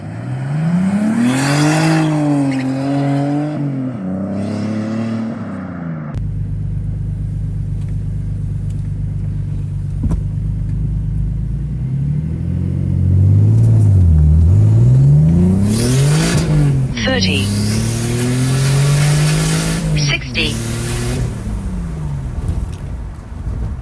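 A turbocharged BMW E46 with a CXRacing kit accelerates hard, its engine roaring loudly and rising in pitch through several gear changes, with turbo whoosh and tire noise as traction breaks, heard from inside the car.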